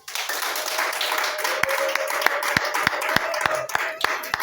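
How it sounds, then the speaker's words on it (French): An audience at a gathering claps in sustained applause, with a few sharp, distinct nearby claps standing out over a dense crowd wash and a faint voice beneath. "Applaudissez pour elle"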